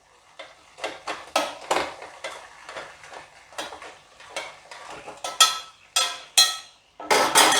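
Fried potatoes drop one by one into a pan of cooked masala for Bengali aloo dum, making about a dozen close, distinct clinks and soft plops at an uneven pace, alone with no voice.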